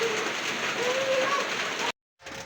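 Rain falls steadily as a dense, even hiss, moderately loud and constant, then cuts out abruptly before resuming more faintly for a moment.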